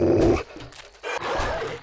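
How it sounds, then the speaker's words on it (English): A dog growls in the 7 Days to Die video game. The growl is loud and close at the start, drops away briefly, then comes back as a longer, lower rumble. "Uh-oh, there's a dog."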